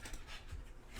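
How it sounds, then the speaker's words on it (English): Dogs panting and whimpering close by indoors, quick breathy pants with a faint whine, brief and fairly quiet with no talk. "Dogs came in, wanted to make an appearance."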